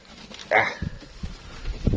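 A dog on a farm gives a short whine or yip, followed by scattered soft thumps and movement sounds nearby.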